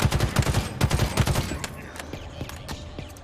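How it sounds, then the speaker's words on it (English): Shot grenades go off in a video game as a quick run of sharp, loud bursts. The bursts then fade into softer, scattered pops and rumbling echoes. "I just love watching those shot grenades take guys down."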